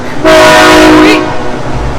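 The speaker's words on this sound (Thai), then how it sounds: "รถไฟจะไปแล้ว" A passenger train on a Thai line bound for Chiang Mai sounds a loud, sustained two-tone horn for about a second as it departs the station, then the blast cuts off and leaves platform background noise.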